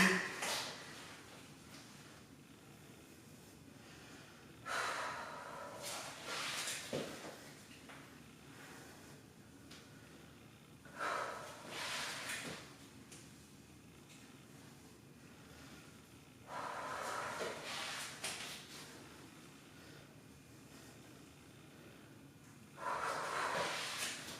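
Deep breathing during a plank rotation in a core strength workout, with several breathy exhales arriving every few seconds, close and fairly faint against a quiet room.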